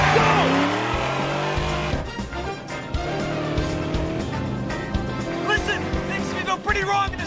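Car engine revs and roars at high speed with tire squeals and skids, mixed with dramatic music and voices, as the car races to jump onto a boat.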